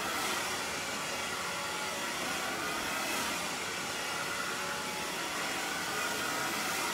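A hair dryer blows hot air steadily over wet hair, a loud, continuous broadband whoosh that holds unbroken and close for the full length.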